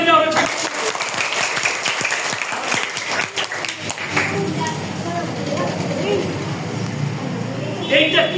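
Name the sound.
class clapping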